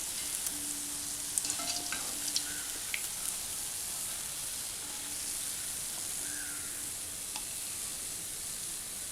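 Kerala split cake, vettu cake, frying in hot oil, a steady dense sizzle with occasional small pops and faint utensil touches, continuous and close throughout.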